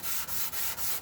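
Sandpaper at 180 grit rubbing across the resin top of a guitar in steady, close strokes, a continuous broadband scratching broken by brief pauses at each change of direction, roughly four passes in about a second, with no voices.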